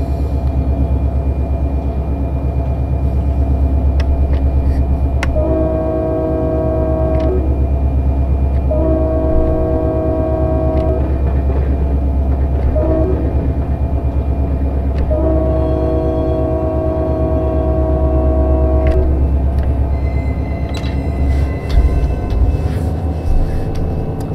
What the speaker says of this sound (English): Another train at the launch pad.